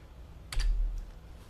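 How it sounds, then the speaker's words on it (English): A burst of computer keyboard typing, a few quick clustered keystrokes, close and moderately loud, during work on a drafting program with a troublesome keyboard. "I'm having trouble here with my keyboard."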